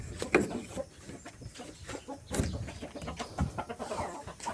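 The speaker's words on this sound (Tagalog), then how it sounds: "Kumusta kayo mga manok?" Chickens cluck in a farmyard, a series of close, irregular clucks and squawks rising and falling throughout with no talk.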